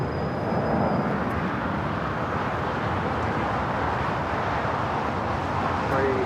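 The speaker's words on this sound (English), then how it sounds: "It's a 737-800. Now rolling down that 25 right." A Boeing 737-800 rolling down runway 25 Right at LAX for takeoff makes a steady, broadband jet roar with a brief high whine at first, sustained at moderate distance.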